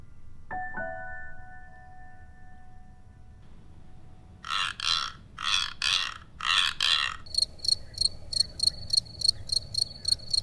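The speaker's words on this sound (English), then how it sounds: "When crickets and katydids chirp, they're scraping the file on one wing against a hard edge of the other wing." Crickets and katydids chirp in rhythmic pulses, first in slower buzzy bursts, then in faster, higher, evenly spaced chirps, fairly close and clear.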